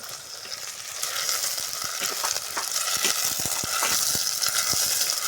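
Crispy potato fry sautéing in a pan: a steady, loud sizzle with scattered crackles and the scrape of stirring, continuing without pause.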